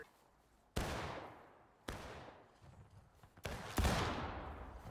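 Musket volleys from a War of Rights battle, three separate heavy blasts, each rolling out into a long fading crackle of scattered fire, heard at a distance and fairly faint, with no talking.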